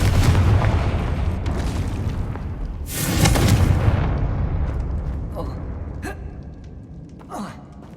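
A Confringo fire spell explodes in the Hogwarts Legacy video game. A broad, roaring burst rises about midway over continuous loud, rumbling game noise, then fades into thinner crackles and a few sharp ticks.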